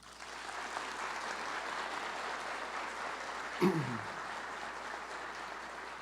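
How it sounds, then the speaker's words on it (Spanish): An audience at a formal ceremony applauds in a steady, even wash of clapping that holds for several seconds, with a brief thump partway through. "Para todos ellos les pido un fuerte aplauso."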